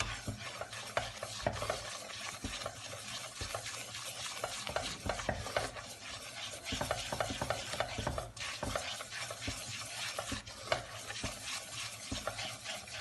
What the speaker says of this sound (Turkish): pembeleşesiye kadar kavuruyorum.